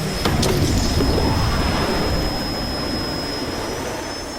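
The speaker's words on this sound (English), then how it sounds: "T. Gray and MK, you are now cleared for flight school takeoff" A jet aircraft roars through a takeoff, a broad sustained rumble with a steady high whine on top, loud at first and slowly easing as it continues.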